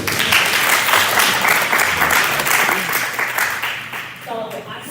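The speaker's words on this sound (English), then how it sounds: "Applaud everybody" Applause at a district stakeholders meeting, a dense wash of clapping from the audience filling the room, then tapering off as a voice begins at the end.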